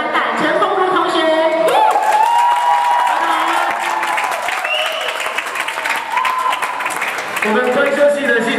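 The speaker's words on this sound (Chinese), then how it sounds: "首先让我们以最热掌声欢迎4年级的班带陈宏儒同学" A crowd applauds and cheers to welcome a fourth-year student at an evening university sports-week and freshman-welcome event. There is steady, loud clapping with whoops and shouts mixed in over a continuous noisy murmur.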